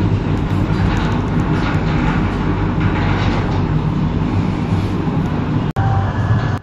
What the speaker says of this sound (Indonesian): Argo Cirebon diberangkatkan kembali dari stasiun Bekasi